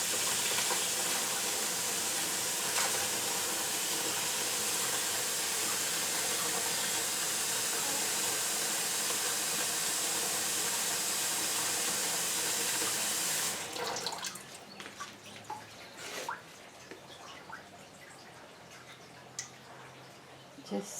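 Tap water running steadily as it rinses the moss-stripped roots of a grocery store Phalaenopsis orchid during repotting, a loud continuous splash that stops abruptly, leaving quieter handling and drips.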